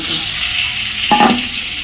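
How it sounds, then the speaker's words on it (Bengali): Pointed gourd (potol) fries in a pan tempered with nigella seeds, giving a close, steady hiss of sizzling oil with a short burst of stirring near the end. "এবারে পটলটা এটা ভাজবো।"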